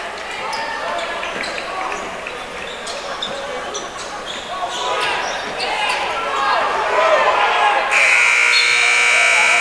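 Crowd noise and an announcer's voice fill a high school varsity boys' basketball arena, then a loud, steady electronic buzzer blares near the end and holds.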